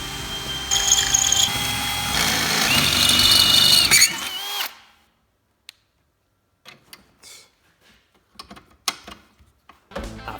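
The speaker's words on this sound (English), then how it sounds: "I could mark out and drill the hole so that it lined up with the factory holes" Power drill boring a hole through a welded steel bracket: a loud, steady whining drone for about four seconds that stops abruptly, followed by quiet scattered clicks and handling noises.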